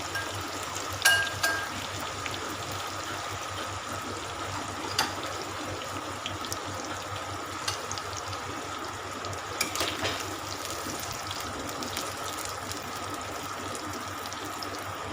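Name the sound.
soya chunks coated in corn starch frying in oil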